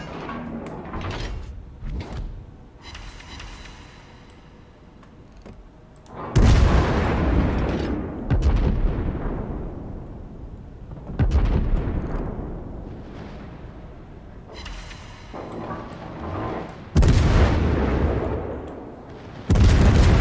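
Warship main-battery artillery salvos in World of Warships, several loud deep booms spaced irregularly, each followed by a long rumbling decay, with quieter distant firing between them.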